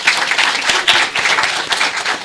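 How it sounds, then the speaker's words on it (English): Sustained round of applause from an audience at a regional schools investment awards ceremony, dense steady clapping from many hands filling the room throughout. "Let's give her a round of applause."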